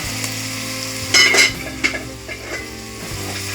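Ackee and saltfish simmering in a pan, a steady close sizzle and bubbling with a few brief clinks of a utensil against the pan partway through.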